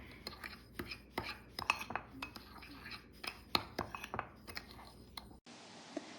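Granulated sugar and pumpkin spice are mixed in a bowl with a utensil, giving repeated quick scraping clicks in an uneven rhythm, close and quiet, before the sound cuts to near silence.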